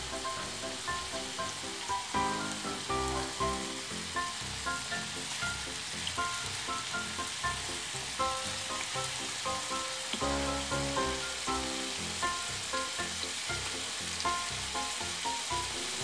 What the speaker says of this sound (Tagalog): Simulan ko na siyang i-fry.